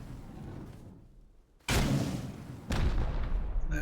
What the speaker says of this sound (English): I do love the sound of Trio's rocket launchers.